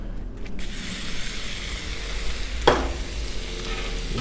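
Diced steak sizzling on a 36-inch Blackstone griddle for steak tacos, a steady loud frying hiss with a sharp scraping stir near the middle and soft background clatter.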